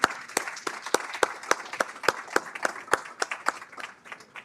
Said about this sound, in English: a round of applause for all of our panels today.